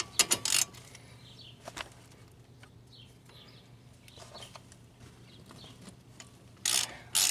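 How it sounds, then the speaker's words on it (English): A half-inch ratchet working on a brake bolt of a Pontiac Grand Am, a few short bursts of clicking at the start and end with quiet workshop background between. "Let's get a 1/2" ratchet on this and see if we can get it to come loose."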